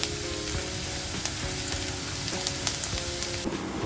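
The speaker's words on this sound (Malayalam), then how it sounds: "ഈ സവാള ഒരു ബ്രൗൺ കളറാവുന്നത് വരെ നമുക്കൊന്ന് മൂപ്പിച്ചെടുക്കണം." Onions sizzle steadily as they brown in a pan, a continuous crackling fry broken by a few soft scraping stirs, close and moderately loud with no talk.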